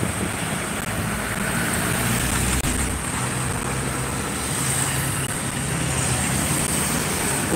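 Motorbikes and cars pass along a road during a lockdown, a steady broadband roar of traffic that holds evenly throughout with no distinct single passes standing out and no talk.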